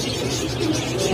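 Pigeons coo amid a dense, steady din of many birds at a Kaptan Bazar pigeon market selling racer and red-footed pigeons and doves, the calls close and continuous through the brief stretch.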